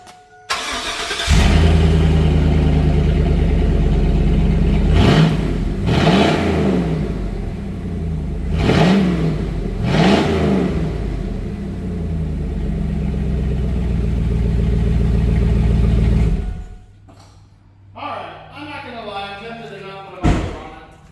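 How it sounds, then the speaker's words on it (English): A 2002 GMC Yukon XL engine fires up and runs with no muffler on its new catback exhaust, a loud, deep, rough rumble with a few revs, then it shuts off and a person speaks briefly. "you always have to start it with no muffler, just to see what it could be like"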